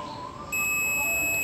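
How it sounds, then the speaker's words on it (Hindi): A multimeter set to continuity, its probes on a speaker's plus and minus wires, lets out a steady, loud, high-pitched beep that starts abruptly partway through and holds without a break. "बीप साउंड आ रहा है, इसका मतलब ये स्पीकर हमारा सही है"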